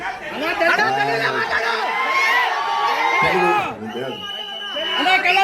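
Fan crowd at a film event roars with cheers, whoops and shouting, a loud continuous wall of excited voices with a brief dip near the end.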